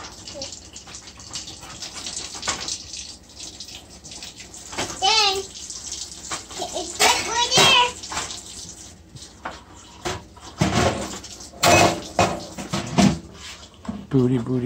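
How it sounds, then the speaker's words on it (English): Water running from a kitchen tap into a sink while dishes are washed, a steady hiss under frequent chatter from an adult and a small child, with occasional clinks and knocks of dishware. "How about we turn off the water?"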